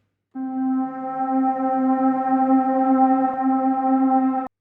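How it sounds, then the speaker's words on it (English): A single physical-modeling synth exciter tone from reFX Rippler, resonators off, sounds and holds steady for about four seconds, bright and buzzy, then stops abruptly. "Let's see how these different exciters sound."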